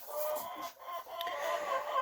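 Hens shut in their coop early in the morning cluck and squawk while waiting to be let out, a faint, continuous, fairly distant chatter of several birds with no talking.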